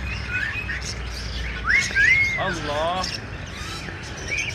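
A pet myna bird at a bird shop in Lalukhet market gives a few rising whistled calls and chattering notes, close and fairly loud, while a person talks over it in the background.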